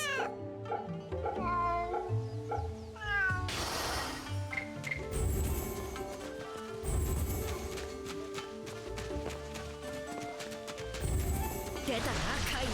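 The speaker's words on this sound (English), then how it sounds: "There's the kitty over here." A cat meows repeatedly in the video game Fate/Samurai Remnant, its cries mixed with game music and sound effects.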